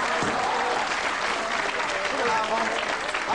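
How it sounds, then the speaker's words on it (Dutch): Hearty audience applause greets a performer introduced on stage at a Dutch comedy entertainment show, a dense, steady wash of clapping that stays loud and close throughout. "uw aandacht en een hartelijk applaus hier voor Kees Mis"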